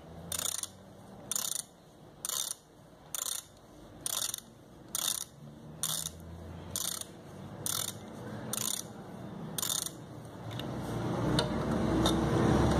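A large screw is slowly backed out with a ratchet, giving about a dozen evenly spaced clicking bursts roughly a second apart, close and clear, with a rustling handling noise rising at the end.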